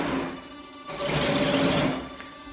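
A small servo drives the elevator control surface on a Mamba120 RC airplane, giving a steady electric whine that swells in the middle and then fades, close up with no talking.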